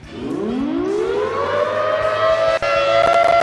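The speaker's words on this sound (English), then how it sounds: "place your siren, and I'll wait for it to be powered up to turn the siren on" A Minecraft SirenRailz mod siren, switched on by a redstone clock, winds up from a low growl to a loud, sustained civil-defense wail that rises steadily in pitch and holds steady near the end.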